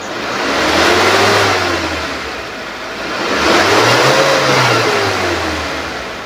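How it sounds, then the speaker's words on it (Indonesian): A 2018 Suzuki Carry Futura pickup's engine is revved twice from idle toward 3,000–4,000 RPM, each rise swelling and then falling back, loud and close with no talk. "Dan sekarang coba kita naikkan RPM-nya, kita dengerin suara RPM tingginya gimana."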